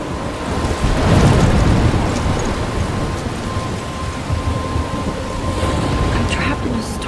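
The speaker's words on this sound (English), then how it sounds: "I'm trapped in a storm?" Thunderstorm in the video game Life is Strange: steady heavy rain and a low rumble of thunder swelling early, wind hiss throughout, loud and continuous with no talk.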